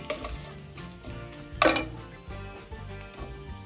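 Whole spices like cumin, fennel, dry fenugreek leaves and dried red chili frying in a pan for lamb mince curry, a soft sizzle under scraping stirs with one sharp clatter of the utensil midway, no talking.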